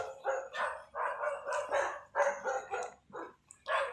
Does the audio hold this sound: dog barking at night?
yes